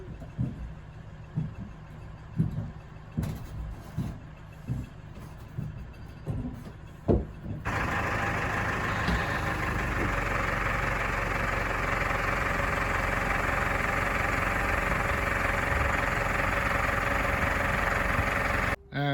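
A telehandler works in a boatyard to lift a boat engine, first as a series of rhythmic knocks and clunks, then as a steady, loud, close engine drone that holds to the end.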